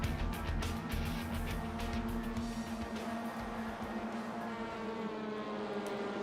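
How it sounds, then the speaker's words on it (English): Race cars of the ATC series sit revving their engines on the starting grid at Portimao before a race, a loud, steady roar of overlapping engines with rising and falling blips throughout. "They're revving up"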